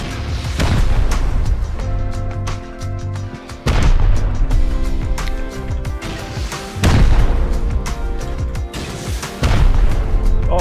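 Gunfire and explosions in the survival game Rust during an online raid on a village, with heavy booming blasts landing roughly every three seconds over a continuous loud rumble of firing.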